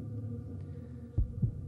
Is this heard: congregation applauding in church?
no